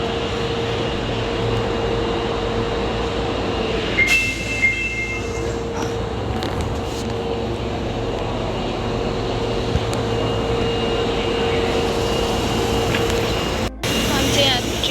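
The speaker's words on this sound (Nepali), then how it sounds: "उताबाट चाहिँ ट्रेन आउँदैछ।" A train arrives at a station platform in Osaka. A steady low rumble and hum of rolling carriages and ventilation continue throughout, with brief brake squeals and clunks and a faint voice under the noise.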